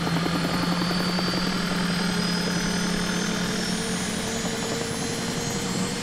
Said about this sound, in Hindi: ओह, इंजन पहले से ही चालू है।